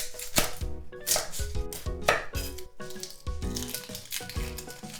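An onion being sliced thinly with a knife on a cutting board, giving quick steady rhythmic chops close by at moderate volume, several cuts per second, with no one speaking.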